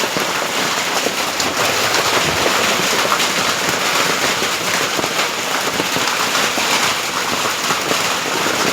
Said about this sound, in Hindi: बर्फ पड़ रहा है।